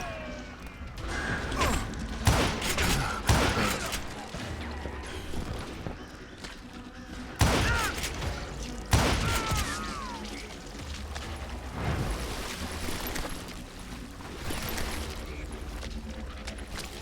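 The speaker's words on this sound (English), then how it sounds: "I'm just using my rifle." Rifle gunfire in the video game Call of Juarez: Gunslinger: sharp single cracks spaced irregularly over several seconds, close and loud, over a bed of game ambience and clattering effects.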